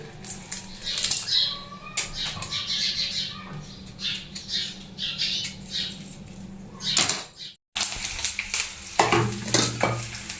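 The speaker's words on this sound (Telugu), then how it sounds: "సో ఇప్పుడైతే పోపు పెడుతున్నానండి." Spices crackle and sizzle in hot oil with a busy, continuous spitting sound and a short break partway through.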